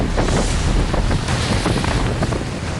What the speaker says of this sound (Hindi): 110 किलोमीटर प्रति घंटे की रफ्तार से आई हवाएं